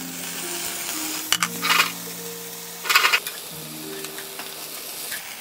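Mushrooms and chicken are stir-fried in a pan for chicken à la king, giving a soft steady sizzle with a low hum, broken by a few quick scraping stirs and light metallic clinks.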